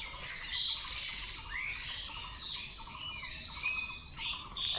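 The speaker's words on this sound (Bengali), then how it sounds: "চারিপাশে পাখি ডাকছে" Village birds call outside in the morning: repeated squawks and chirps from several birds, moderately near, with no talking.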